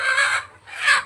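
A large rooster or hen being weighed on a farm gives two loud, close squawking clucks, a brief dip between them.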